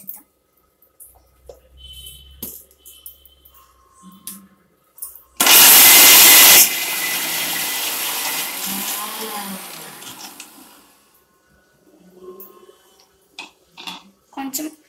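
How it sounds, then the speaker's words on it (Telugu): A mixer grinder blending raw mango into cucumber chutney roars on loudly for several seconds, spinning down into a whirring hum, with someone talking before and after. "మామిడికాయని వేసుకొని ఇంకొకసారి మిక్సీ పట్టేద్దాం"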